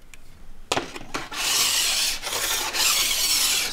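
A metal file drawn along a ski's steel edge during a tune, finer-toothed second cut: a few short scraping strokes, then a long continuous close rasp, steady and fairly loud, with no voices.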